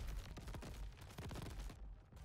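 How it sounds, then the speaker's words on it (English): Fireworks burst in the Crab Champions video game, a dense, rapid run of crackling explosions that keeps going for about two seconds before thinning out. "Oh my god, the fireworks are crazy."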